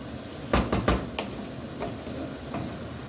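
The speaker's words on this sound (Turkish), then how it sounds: "Biraz da salçayla birlikte kavuracağım." Chopped onions frying with a little tomato paste in a pan on the stove, giving a soft, steady sizzle with a few close clanks of a spoon stirring early on.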